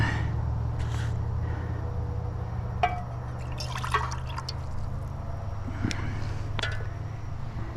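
Water rinsing out a coffee pot at a campsite, a soft continuous trickle with scattered drips and small splashes over a low steady hum, close and fairly quiet.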